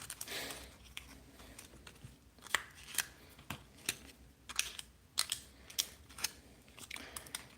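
Scissors snipping through a clear plastic RC race car body, a steady series of sharp, close cuts repeating roughly every half second, with no talk over them.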